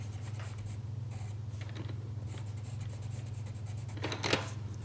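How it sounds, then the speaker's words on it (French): A coloured pencil scratches along the edges of a picture, close and faint, with short irregular strokes over a low steady hum and a firmer burst of scribbling near the end, with no voices. "je colorie les bords de mon image"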